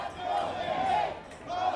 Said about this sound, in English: with chants heard across the nation